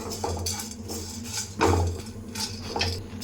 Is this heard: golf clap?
no